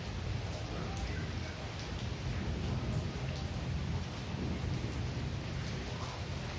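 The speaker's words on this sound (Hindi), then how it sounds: "हो सकता है कि थोड़ा शोर आए वीडियो में क्योंकि बारिश हो रही है बाहर" Steady rain falling outdoors, a dense continuous hiss at low level with a faint rumble underneath, heard from indoors with no voices.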